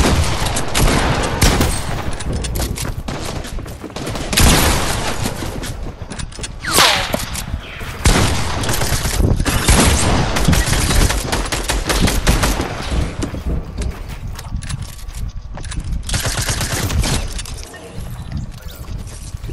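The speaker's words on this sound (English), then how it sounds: "I just got sniped out from the south somewhere" Sniper fire and other gunfire crack through a Fortnite battle royale match, dense bursts of loud shots and rapid volleys filling the whole stretch, with players talking faintly beneath.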